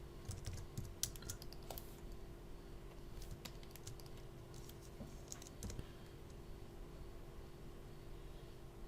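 Close-miked typing on a computer keyboard: irregular clusters of soft key clicks and taps, with occasional louder strokes, running continuously over a steady electrical hum and faint background noise, with no voices.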